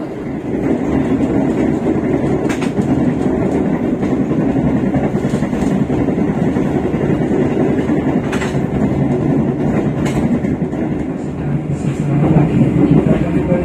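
Gumarang passenger train running on rails, heard from inside a business class carriage, with a continuous rumble and rhythmic clatter of wheels, a few sharp clicks scattered through, and faint voices now and then.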